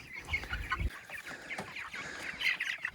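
Broiler chickens let out onto grass pasture for the first time cluck steadily in a busy, overlapping chorus, with several birds close by and no talking.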